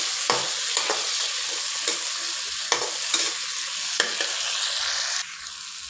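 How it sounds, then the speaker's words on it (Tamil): Onion and tomato being sautéed in a pan for a Centella asiatica (vallarai keerai) chutney, a loud continuous sizzle punctuated by regular spatula scrapes and taps, heard up close with no talking. "தக்காளி சேர்த்து நல்லா வதக்கி விட்டுக்கலாம்."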